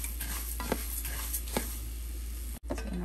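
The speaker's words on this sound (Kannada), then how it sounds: "ಕೊತ್ತಂಬರಿ ಬೀಜನ ಅದೇ ಥರ ಹುರ್ಕೊಳ್ಳೋಣ" Coriander seeds dry roasting in a pan for bisi bele bath powder, with a light crackle and rhythmic stirring scrapes over a steady low hum, which cuts out briefly near the end.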